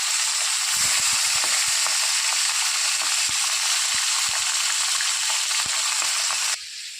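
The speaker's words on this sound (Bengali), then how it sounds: "এই মাছ কড়া ভালো লাগে না ভাজা তাই হালকা করে মাছগুলো ভেজে নেব" Khoira fish sizzles steadily while lightly frying in hot oil, a loud continuous hiss with faint crackles and pops, no voices, dropping off abruptly near the end.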